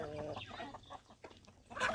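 Farm chickens, recently vaccinated against Newcastle disease in Awendo Sub-County, cluck in a brief close-up burst of irregular calls, ending on a louder squawk.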